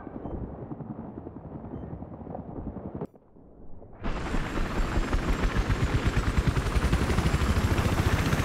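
Helicopter in the video game Battlefield 3: a loud, steady rotor and engine drone fills the clip after a short dip, layered with dense game combat noise and rapid thumping.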